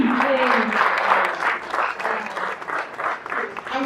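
Audience applause at a 10th anniversary cocktail party for NIS, a sustained crowd clapping with voices mixed in, loud and close at first, then thinning out.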